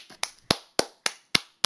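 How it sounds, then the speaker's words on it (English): A single person claps hands six times in a quick, slightly uneven rhythm, each clap sharp and close against near silence. "I just want to clap for the girl. Give her a round of applause, everybody."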